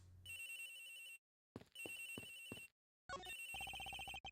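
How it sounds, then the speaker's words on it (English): Cell phone ringtone in a detective game scene, a bright electronic melody ringing in three bursts separated by short silences, clear and alone without voices. "The ringing's coming from somewhere in here, sir."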